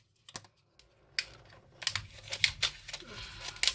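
Scissors snipping and cutting into plastic makeup packaging for a foam-tipped foundation in shade 01 Light, a series of short crisp clicks and crinkles at close range, growing busier toward the end with no talk.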